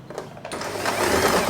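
A sewing machine stitches along a guide line through the center of a scrunchie's fabric, its steady mechanical whir continuing close and fairly loud after a brief start.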